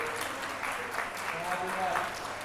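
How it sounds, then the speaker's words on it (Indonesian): An audience in a public lecture hall applauds for Pak Widi with a moderate, fairly distant wash of clapping while a voice talks over it. "Kita berikan aplaus nih buat Pak Widi"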